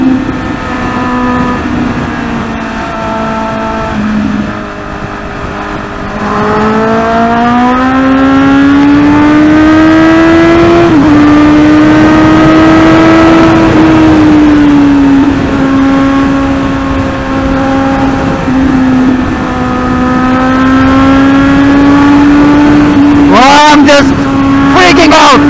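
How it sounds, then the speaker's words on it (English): A Kawasaki Z800 motorcycle rides on a highway, its exhaust droning loud and steady with pitch rising and settling through gear changes, mixed with strong wind rush, and someone talks over it. "Man, this exhaust note is just so awesome!"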